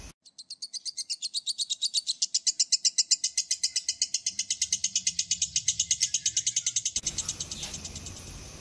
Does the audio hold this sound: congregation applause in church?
no